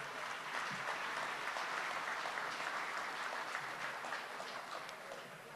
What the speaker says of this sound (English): I want to give them a round of applause and thank them for allowing everybody in here today.